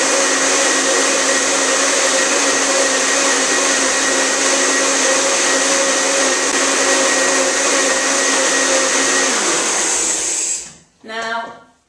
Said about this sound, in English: I'm going to blend it on the extra large smoothie setting of my blend tech